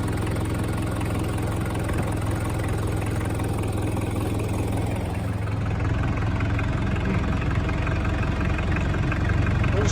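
A Mitsubishi Pajero 2800 four-cylinder diesel engine idles after sitting for years, a loud, steady, slightly shaky clatter with a constant low throb, close by and without pause.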